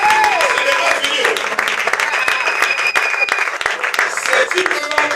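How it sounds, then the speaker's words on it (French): An audience at a church seminar applauds loudly and continuously, a dense burst of clapping that fills the whole moment with a few voices mixed in. "Donc acclamez."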